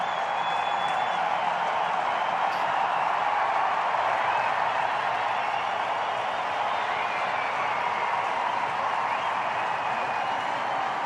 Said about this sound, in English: Huge applause from the Indian fans all around the ground here at the Adelaide Oval.